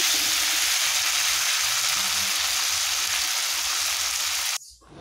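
Goat mutton frying in a pan during home cooking, a steady loud sizzle lasting several seconds before it abruptly drops away.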